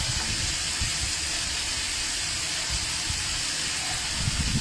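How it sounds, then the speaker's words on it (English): Pork belly frying in a pan with dark soy-style sauce, a steady broadband hiss and sizzle running throughout at moderate level, with occasional low bubbling pops, no talking. "I'm going to fry the pork now."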